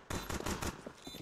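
Rapid automatic gunfire during a Counter-Strike 2 duel on the Mirage map: a fast loud burst of several close shots, then softer trailing shots.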